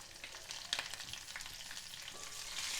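Mustard seeds, cumin, dried red chilies and sliced green chilies fry in hot oil, giving a steady close sizzle with small crackling pops and no voices.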